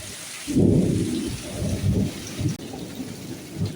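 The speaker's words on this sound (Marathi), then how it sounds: "दोन हजार पंचवीसचा पाऊस चालू झाला आहे जोरात आणि जोरात गडगडत आहे" Heavy monsoon rain pours steadily in Sindhudurg, Konkan, while deep thunder rolls and rumbles loudly in long waves, close and powerful.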